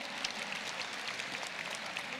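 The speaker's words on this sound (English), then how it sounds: "All of you, give yourselves a round of applause." Conference attendees give a faint, distant round of applause, steady soft clapping from a large room continuing evenly.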